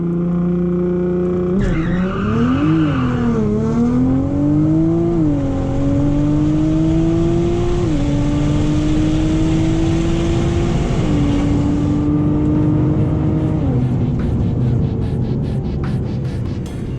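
An 800-horsepower car running on E85 launches down a quarter-mile drag strip, engine roaring up through several gear changes with rising pitch, loud and close from inside the cabin.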